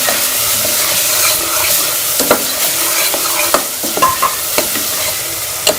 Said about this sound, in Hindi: हम ये सारे मसाले शामिल कर लेंगे और मसालों को अच्छी तरह से भून लेंगे।